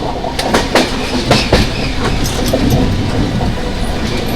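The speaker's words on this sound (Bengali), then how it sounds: "দেখুন আমাদের ট্রেনের যে লোকোমোটিভ সেটা কিন্তু অলমোস্ট কৃষ্ণা নদীর উপরে উঠে গেছে" Coromandel Express passenger train crossing the bridge over the Krishna river, a loud steady rumble of wheels on rails with sharp rhythmic clacks and bangs from the bridge joints throughout, recorded from on board.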